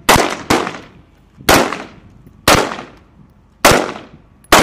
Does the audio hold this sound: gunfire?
yes